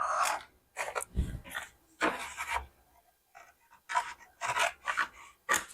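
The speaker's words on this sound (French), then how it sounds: "Alors, hop, ciseaux." Scissors snip through printed digital paper for a butterfly album, a run of short crisp cuts in quick bursts separated by brief pauses, close and fairly quiet.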